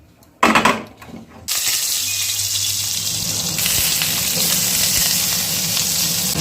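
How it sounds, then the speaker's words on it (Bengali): Potatoes drop into hot oil in a wok and burst into a loud, close sizzle, with a brief splash and clatter at the start before the frying settles into a steady hiss. "আলুটা ভেজে নেব।"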